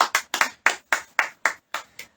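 Congregation at a live church prayer meeting clapping hands in unison, about nine sharp, evenly spaced claps at a steady rhythm, fairly close and clear with no talking over them.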